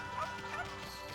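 A dog barks in the video game Ōkami, a couple of short yips over game background music.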